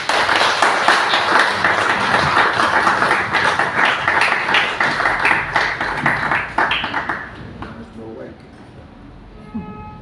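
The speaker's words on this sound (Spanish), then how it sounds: "Aplausos para él." Audience applause for poet José Luis Ayala at an evening tribute gathering, dense clapping filling the room for about seven seconds, then thinning to scattered claps as it fades.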